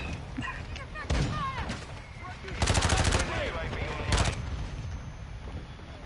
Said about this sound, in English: you chill out with the mortars